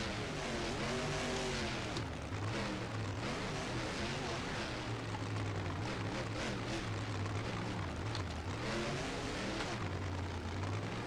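Simulated monster truck engine in Rigs of Rods, a 2015-2016 Brutus or Electric Mayhem truck racing and rolling, drones loudly and steadily throughout, its pitch rising and dipping with throttle changes, with a voice talking over it.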